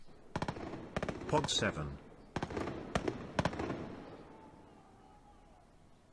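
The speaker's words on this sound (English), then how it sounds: "So they're like shooting blanks and whatnot, right?" Blank gunshots fired on a movie set, several loud sharp cracks in quick bursts, with a brief spoken word in between and a fading echo afterward.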